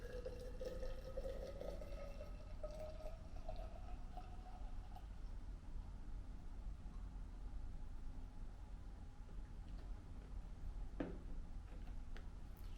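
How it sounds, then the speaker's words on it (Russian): Water boiled to 100 degrees is poured into a full thermos to brew Shou Mei Chinese white tea, a close gurgling fill whose tone climbs steadily for about five seconds before fading into quiet room noise. "И заливаем полный термос."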